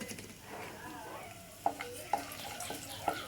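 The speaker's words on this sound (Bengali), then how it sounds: "মশলাগুলোকে নেড়েচেড়ে দেব যাতে পুড়ে না যায়। ভালো করে ভেজে নেব।" Whole garam masala spices frying in hot oil while being stirred for a Bengali chicken curry, producing a faint, soft sizzle broken by a few light clinks of the spoon against the pan.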